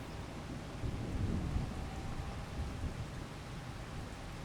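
Steady rain with a low rumble of thunder in the Farming Simulator 25 game, a soft continuous wash of rainfall under a rolling thunder swell, faint and with no talk.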